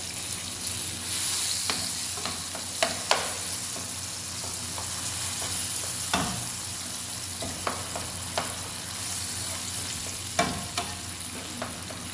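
Cooked tomatoes sizzle in a pan for mint rasam while a spoon mashes and scrapes them, bringing scattered taps over a constant frying hiss.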